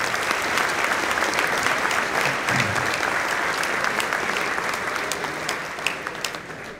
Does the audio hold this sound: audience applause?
yes